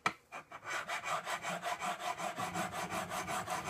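Sharpening the iron of a coffin smoother plane at a micro bevel, a steady rhythmic back-and-forth of close, gritty grinding strokes, about four per second, with no talking.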